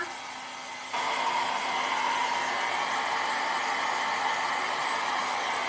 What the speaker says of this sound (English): So the hair dryer dries it pretty quick because it's drying up the alcohol.